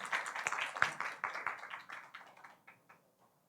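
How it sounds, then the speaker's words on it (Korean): Applause from a church congregation at a forum, a burst of scattered hand claps that starts full and thins out into a few final isolated claps before fading to near silence. "박수 주세요."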